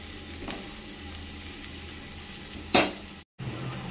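Potatoes fry in oil in a pan with a soft, steady sizzle, broken by a sharp stirring scrape near the end and a brief dropout.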